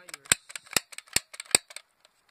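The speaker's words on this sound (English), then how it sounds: "just stick the BBs in there and they fire" A new BB gun that loads loose BBs without a magazine fires several sharp, snappy shots at close range. Softer mechanical clicks and rattles fall between the shots, and no one speaks.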